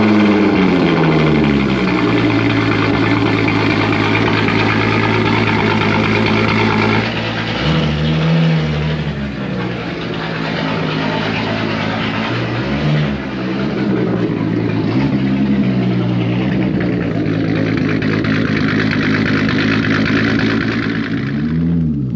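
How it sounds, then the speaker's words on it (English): A Volkswagen Corrado VR6 engine breathing through a straight-pipe exhaust, a loud, raspy, continuous drone close by that rises and falls through revs and gear changes, with no talking. "get you guys some straight pipe VRT sounds"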